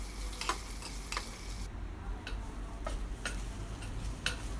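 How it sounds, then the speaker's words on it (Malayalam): Okra sautéing in a pan gives a faint steady hiss, with light spatula taps and scrapes landing about every half second in a loose, tick-like rhythm. "വെണ്ടയ്ക്ക നന്നായിട്ട് വഴറ്റിയെടുക്കണം നമുക്ക്"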